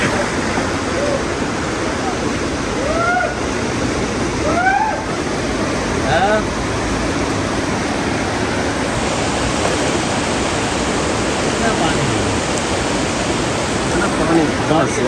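Heavy rain with hail and rushing floodwater in Saudi Arabia makes a loud, steady broadband roar that fills the whole stretch, with brief chirpy tones and people talking partly buried in the noise.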